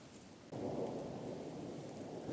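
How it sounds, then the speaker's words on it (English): Thunder rolls on during a thunderstorm in Custer, South Dakota, a sudden loud onset swelling into a long continuous rumble mixed with rain, with no quiet gap. "No, thunder just keeps going and going and going."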